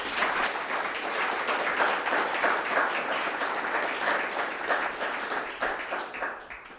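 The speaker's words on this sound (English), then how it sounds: "Can we give a round of applause to Angela?" An audience at a panel forum breaks into sustained applause, a dense, even wash of clapping that holds for several seconds and thins slightly toward the end.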